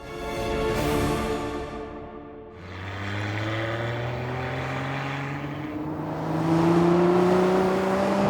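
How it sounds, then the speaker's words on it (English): A Ferrari 812 Superfast V12 pulls away on a public road, its engine note climbing through gears with rising harmonic tones, a brief lift between shifts, then building louder and closer toward the end. "let's head out and drive the car on the road"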